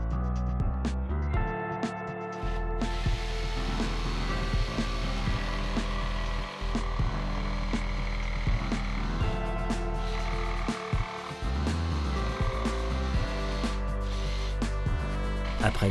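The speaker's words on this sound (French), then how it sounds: "la scie sauteuse permet d'élaborer le reste des encoches" A jigsaw cuts notches into wood for a charging station, a continuous buzzing saw drone with brief pauses, fairly loud and up close, under background music.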